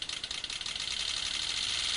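A simulated car engine at about 60 mph, heard as the injector pulse train of a water fuel cell system: fast pulses that blur into a dense, continuous buzzing whir, close and steady, with no talking.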